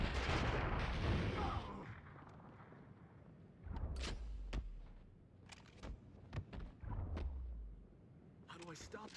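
Grenade launcher blasts in The Matrix: Path of Neo, a run of sharp booming shots and thuds at uneven spacing, loud and close, set over game sound and a voice talking.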